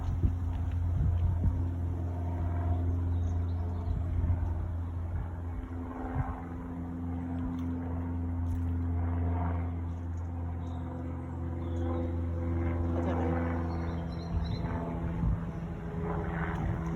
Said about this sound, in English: Hear an aeroplane above.